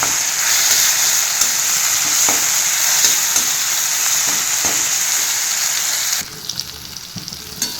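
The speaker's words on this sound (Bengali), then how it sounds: "লঙ্কাটা হালকা একটুখানি ভেজে নিতে হবে, কাঁচা গন্ধটা যাওয়া পর্যন্ত" Green chillies fry steadily in hot oil with a continuous bright sizzle and occasional stirring clicks, the hiss dropping off sharply near the end and leaving only faint crackles.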